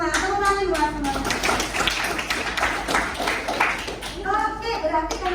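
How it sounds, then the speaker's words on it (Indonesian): A class of students claps together in a short burst of applause during a lesson, the claps mixed with speaking voices at the start and end. "Tepuk tangan buat semuanya."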